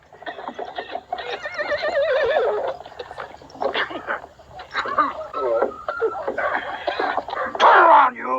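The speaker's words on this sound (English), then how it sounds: "Jack, I found a horse." A horse whinnies loudly with a wavering, drawn-out call, followed by snorts and more neighing amid other commotion and voices.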